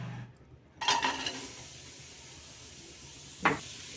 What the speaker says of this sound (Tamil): ஃபஸ்ட்டு வெங்காயத்தை தான் கொட்டணும் இப்போ வாங்க கொட்டுவோம்